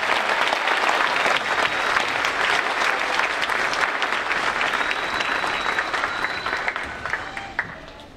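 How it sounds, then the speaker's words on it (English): An audience claps steadily at a school winter concert. The applause is dense and sustained, then thins out and fades toward the end. "Please give them a round of applause."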